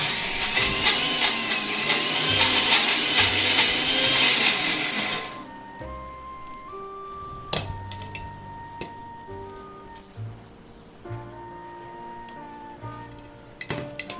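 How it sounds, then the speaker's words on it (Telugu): A mixer grinder runs loudly for a few seconds while coarsely grinding curry leaf chutney, then stops abruptly, leaving quieter clicks, knocks and tonal hums from the kitchen. "ఇదంతా కూడా మనం కొంచెం కోర్సుగా గ్రైండ్ చేసుకోవాలి మిక్సీ పెట్టుకుని"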